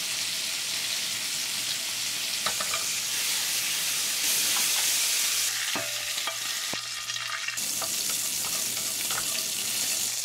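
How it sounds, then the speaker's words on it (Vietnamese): Beef pieces pan-seared in a frying pan in a second batch for a stew, a steady loud sizzle and hiss running throughout with scattered clinks and scraping stirs, no voices. "Áp chảo tiếp cái phần thịt còn lại nữa là xong nè."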